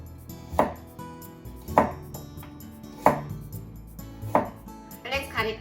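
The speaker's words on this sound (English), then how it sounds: "And carrot. This is just for better presentation, so you can pass it. Make thin slices." A knife cuts a carrot into thin slices on a board, with four distinct, evenly spaced chops and some lighter cutting sounds at the end.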